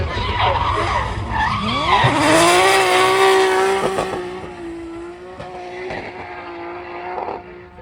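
A turbocharged 1.6-litre, 300-horsepower Mazda MX-5 race car's engine revs and whines at Castle Combe as tires squeal, loud and close, then settles into a steady drone as the car passes.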